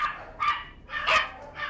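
Illegal puppies held at airport quarantine kennels give a few high, thin yips and barks in quick bursts, fairly faint and with no voices.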